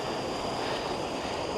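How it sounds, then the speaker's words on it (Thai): Water from the Tad Bang Ma waterfall near Vientiane, Laos, rushes in a broad, steady roar that fills the whole moment, loud and close with no voices. "เป็นน้ำตกตาดของตาดบางมา"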